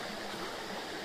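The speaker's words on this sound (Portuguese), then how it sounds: "Não sei o nome dessa cachoeira," Waterfall on the Gold Coast, Australia, a steady broadband rush of falling water with no breaks, close and continuous throughout.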